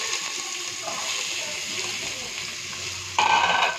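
Onions go into hot spiced oil and fry with a constant bright sizzle, then a louder burst of crackling erupts near the end.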